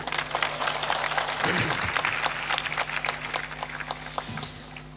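An audience at a Hindu satsang claps in a dense, continuous round of applause throughout, with a low steady hum underneath.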